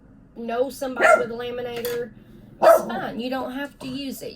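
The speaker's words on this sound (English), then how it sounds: "I apologize for my dog barking in the background." A dog barks a few times in the background, with short sharp bursts while a person keeps talking in the foreground.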